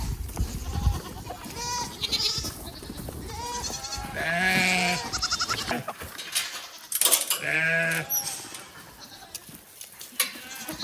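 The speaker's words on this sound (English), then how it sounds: "Come on, goat. Come on, goat. You can get in here." Goats bleating repeatedly at feeding time on a farm, loud, close calls overlapping in bursts amid general livestock commotion, with a person talking intermittently.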